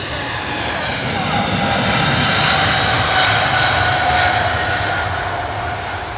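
An Air Canada Boeing 777 in icy blue livery on its takeoff roll, a loud sustained jet-engine roar with a rising whine that swells and holds for several seconds.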